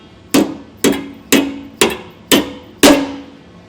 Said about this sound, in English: hit it with just a regular hammer. Got it started, and then we'll just be able to tap it the rest of the way on.